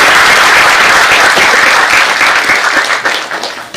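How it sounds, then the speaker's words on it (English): A big round of applause from the audience at a memorial lecture in Cambridge, loud dense clapping from many hands that swells steadily and then thins slightly toward the close. "can we have a big round of applause?"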